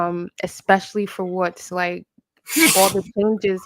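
A short, breathy sneeze bursts out near the end of a stretch of close conversational talk, brief and fairly loud against the surrounding speech.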